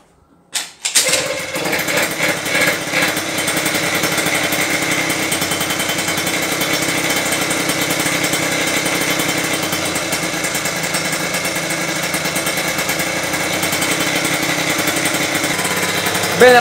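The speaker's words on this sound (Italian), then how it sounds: "adesso lo mettiamo in moto e lo teniamo un po' al minimo. Vi faccio sentire un po' questa marmitta." A fully modified Zip SP 2 Plus scooter starts up and settles into a loud, steady, raspy idle through its exhaust, close to the microphone and unbroken by any talk.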